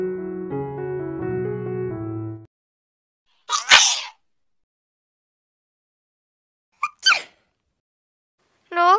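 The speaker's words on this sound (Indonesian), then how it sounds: "Duh, kok bersin? Apa gara-gara kena hujan tadi ya?" A baby character in the Sakura School Simulator video game sneezes twice, each a short sharp burst, after a brief cheerful melody ends. A third sneeze begins at the very end, with silence between them.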